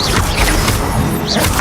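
Incendio fire spell cast in the Hogwarts Legacy video game, heard as a string of loud crashing whacks and whooshing bursts of flame, dense and close with combat effects and no talk.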